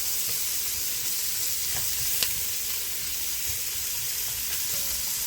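Onion and celery sizzle softly with a little salt in a Dutch oven, making a steady low frying hiss with faint scattered pops.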